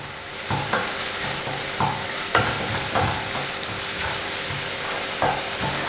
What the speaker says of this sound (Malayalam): ഇനി ഇത് നന്നായിട്ട് മിക്സ് ചെയ്ത് കൊടുക്കുക.